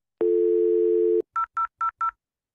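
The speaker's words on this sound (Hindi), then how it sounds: "ये रिंग आपको सुनाई देगी और नंबर डायल करेंगे, ये रिंग आपको बजेगी।" A telephone on a training setup gives a steady one-second tone, then four short, evenly spaced dialing beeps, clear and close with no voices.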